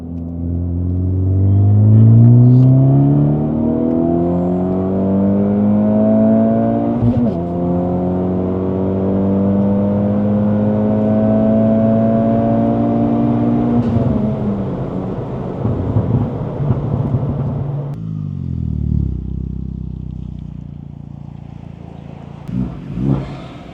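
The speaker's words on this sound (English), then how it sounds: "So now we're gonna do a full throttle. Okay, ready? Third gear 25." A 2024 Acura Integra DE5 on a Hondata flex-fuel E85 tune makes a full-throttle third-gear pull: the engine's rising drone climbs steadily for about fifteen seconds, then drops off into rumbling deceleration.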